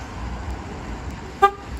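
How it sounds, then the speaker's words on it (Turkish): Short, sharp horn chirp from a 2013 Ford Fiesta sounding as it is locked with the remote, a single brief toot near the end after quiet background. "O zaman da kilitlediğinizde çift kornayla uyarı veriyor."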